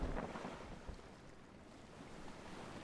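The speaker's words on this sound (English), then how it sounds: "The waves picking up?" Ocean waves building at sea in the survival game Stranded Deep, a steady washing roar with wind noise around a small boat, fairly even and continuous with no talk.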